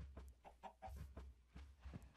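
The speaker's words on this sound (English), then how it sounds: "I see a chicken." A chicken in a fantasy video game clucks in a series of short, quiet, irregular bursts, with a low steady ambient hum underneath and no voices.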